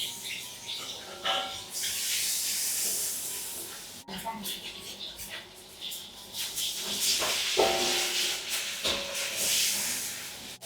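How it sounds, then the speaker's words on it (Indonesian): Long beans stir-frying in a pan make a steady, close hissing sizzle that swells and fades as they are tossed, with a faint voice now and then underneath. "Nih Mama tumis kacang panjang."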